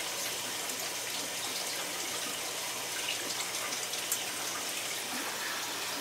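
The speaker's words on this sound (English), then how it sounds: "Now I'm just refilling the aquarium." Water pours steadily into a gar aquarium during a refill, a continuous close rushing splash with no break and no voices.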